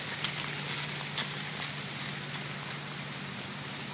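Steady rain falls during the Nashville flood, a dense continuous hiss of drops on surfaces with a few sharper patters, even and moderately close throughout with no talking.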